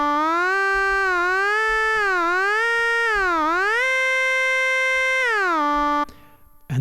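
A synthesizer tone in NI Kontakt with portamento engaged, a steady clean note sliding smoothly up and down between pitches for about six seconds before cutting off into brief noise.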